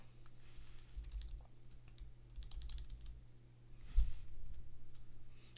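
Keys on a computer keyboard are pressed during a digital photobashing session, quiet scattered clicks and taps at an irregular pace, close and soft over a low background hum.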